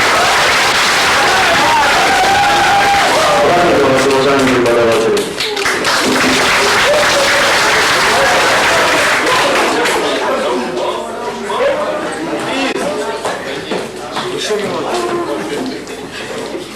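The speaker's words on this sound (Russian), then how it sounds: "Давайте наградим победителей наших аплодисменты." An audience applauds winners at a small concert held for teachers, with the clapping continuous and fairly loud throughout, mixed with crowd chatter and someone speaking over it.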